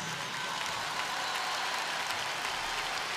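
Applause from a large festival audience at Viña del Mar 2007, a dense, steady wash of clapping filling the whole stretch without any talk.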